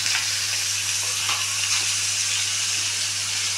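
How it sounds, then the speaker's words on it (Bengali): Katla fish frying in a pan for a Bengali curd dish, a steady bright sizzle with faint crackles over a constant low hum, no talking. "মাছটা খুব বেশি ভাজা করব না"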